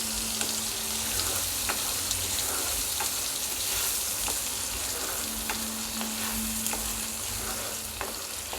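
Ground masala paste for egg curry frying in a pan, a steady close crackle and sizzle running throughout with faint scraping stirs, no voices.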